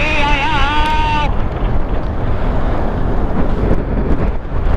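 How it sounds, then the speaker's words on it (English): Strong wind buffets the microphone during a ride in the rain, a loud, constant broadband roar. A short, wavering voice is heard just before it. "That wind is like, holy crap! Yeah, that's pretty strong."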